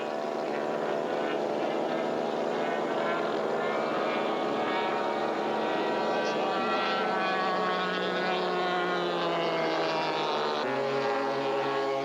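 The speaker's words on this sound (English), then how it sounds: "Dave Breedy held his breath as Verano worked very hard to get race 62 airborne." A racing airplane's piston engine at full power during an unlimited-class heat at an air race in Madera, California, a loud continuous propeller drone with a slowly shifting pitch, up close for the whole stretch.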